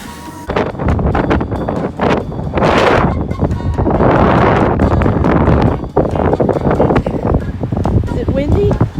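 Strong wind from Cyclone Gabrielle in Auckland, New Zealand buffets the microphone in heavy, roaring gusts throughout, loud and continuous.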